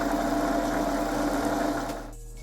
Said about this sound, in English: It will take your printer a couple minutes, make a lot of noises before it is done.